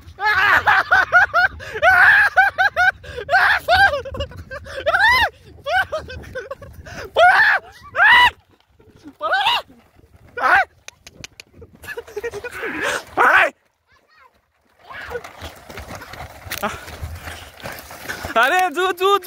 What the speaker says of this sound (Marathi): अशा पद्धतीने बैलांच्या शर्यती लागल्या आहेत